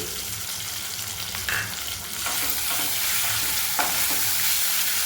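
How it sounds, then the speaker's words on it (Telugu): Ginger garlic paste fries in a pan for a paneer kaju masala curry, giving a loud continuous sizzle with occasional stirring scrapes. "ఇది పచ్చివాసన పోయే వరకు దీన్ని మగ్గించుకోవాలి, వేయించుకోవాలి."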